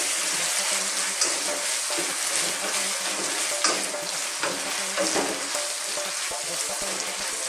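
Shrimp fry in butter in a pan with a dense, continuous, close sizzle, while occasional stirring scrapes and clicks rise briefly above it throughout.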